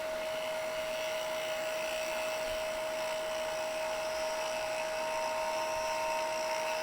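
A wood lathe turning a pen blank gives off a steady high-pitched whine with a faint rough chatter beneath it, continuous and fairly quiet throughout, with no speech.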